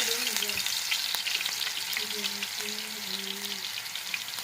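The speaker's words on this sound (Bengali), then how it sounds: "এই যে তেলগুলো গরম হয়ে গেছে এখন আমি রসুন কুচিগুলো দিয়ে দিচ্ছি" Chopped garlic dropped into hot oil fries with a steady, close sizzle and soft crackle, a few faint stirring scrapes over the top, no talking.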